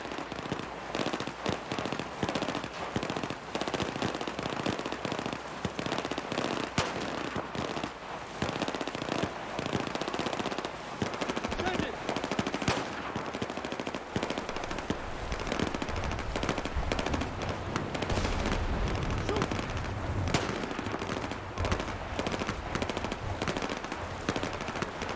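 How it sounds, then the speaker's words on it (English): Sustained AI squad gunfire from the video game Battlefield 4 crackles without pause, rapid automatic bursts and single shots overlapping into a dense, continuous battle din. "You can watch them endlessly fight the AI, immune to bullets but firing blanks all the same."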